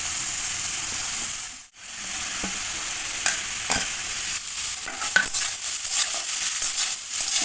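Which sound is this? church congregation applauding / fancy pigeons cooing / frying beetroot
frying beetroot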